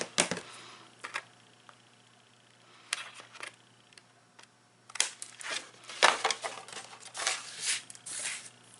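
Scissors trim a strip off a piece of cardstock. Close, crisp snips and crunching cuts come in uneven bursts, sparse at first and then clustered together, with no talking.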